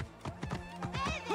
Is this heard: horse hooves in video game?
yes